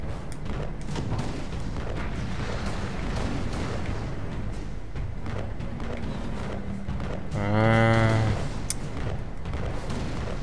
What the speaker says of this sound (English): Cannon fire and mines?